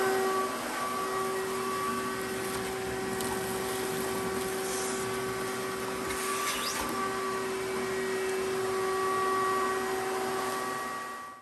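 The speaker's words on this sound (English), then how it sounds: "I like to use this shop vac to vacuum out most of it" Shop vacuum cleaning out the interior of a Cobra car, a steady loud motor whine with a constant hum running unbroken for about eleven seconds, no voices.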